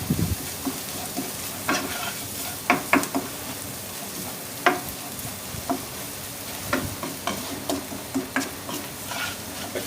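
Masala spices are stirred into a sizzling pan for restaurant-style egg gravy, a steady frying hiss broken by irregular scrapes and knocks of the spoon against the pan, moderately quiet.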